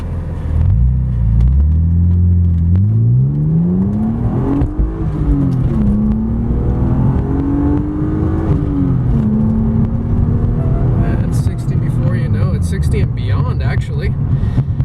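A supercharged 1997 BMW E36 M3 coupe engine pulls hard and rises in pitch as it accelerates toward 60 mph, a steady loud drone with a whine climbing over it.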